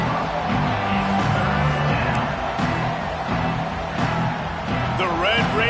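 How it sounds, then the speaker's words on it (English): A Texas Tech Red Raider home football crowd roars steadily through a third-down defensive stand, with a broad, continuous wash of stadium noise under a commentator's voice. "The Red Raider crowd rising to the occasion to help its defense on third down."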